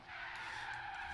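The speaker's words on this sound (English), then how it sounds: "That drift was beautiful." Car tires squeal in a sustained skid while drifting in the racing game Forza Horizon 3, a steady high screech over low engine rumble, fairly faint and without talk.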